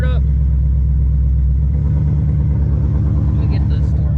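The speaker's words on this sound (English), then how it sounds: "I just started the car, and I'll give it about 5 minutes and we'll see what the temps are at idle." A 2019 Ford Mustang fitted with a chiller system settles from startup into a steady idle, a loud, close, deep rumble that pulses evenly.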